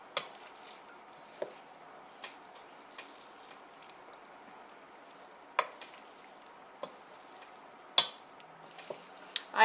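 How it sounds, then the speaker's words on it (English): Kosher Russian potato salad being mixed with pickle juice in place of mayonnaise: soft, wet stirring and squelching under a steady low hiss, with scattered sharp clicks of the utensil against the bowl, close and with no talking. "let's mix it together well"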